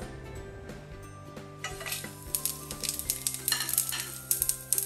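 Cumin seeds and dried chilies hit hot oil in a frying pan and sizzle steadily, crackling and popping louder as it goes, with a hum in the background.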